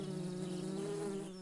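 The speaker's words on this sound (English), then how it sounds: "It's the honeybee. She's hiding in a honeysuckle flower." A honeybee buzzes in a cartoon garden near a honeysuckle flower, a steady close drone that holds for just over a second with no talking.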